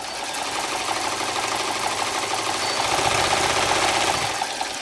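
A Janome Combi two-in-one sewing machine and serger stitching a narrow zigzag, its motor whirring steadily and close with a fast, even mechanical rattle and no speech.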